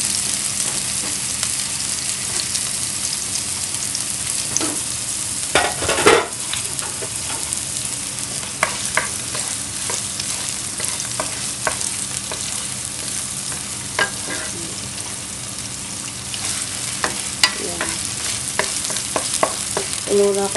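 Garlic and onion fry in hot oil for adobong kangkong with a continuous close sizzle, while a spatula scrapes and clacks against the pan at irregular moments throughout.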